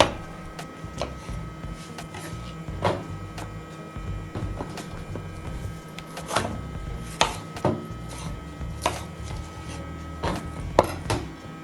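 A knife chops zucchini, champignon mushrooms and bell pepper on a board, producing irregular soft thuds and sharper taps over a low steady background hum, close and moderately quiet, with no speech.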